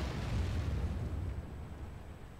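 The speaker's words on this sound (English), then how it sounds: "Artillery tried to shoot at E3 and managed to get a few hundred damage." A low, rumbling artillery blast near an E3 tank in World of Tanks rolls out as a heavy, sustained boom that slowly fades.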